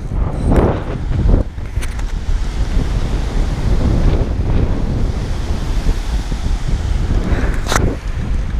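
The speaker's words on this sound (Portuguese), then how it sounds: "Tá demais o vento, olha como o mar tá mexido" Strong wind buffets the microphone beside a choppy sea in a sheltered bay, a continuous loud roar of gusts and churning water with no talk.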